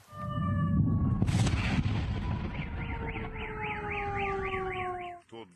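An air raid siren in Belgorod wails, rising and falling over heavy low rumbling and noise from explosions, with a sharp burst early on and a rapid warbling tone toward the end.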